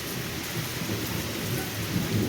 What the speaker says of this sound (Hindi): भाई गड़गड़ गड़गड़ होने लग रही है, और भी तेज़ आएगी।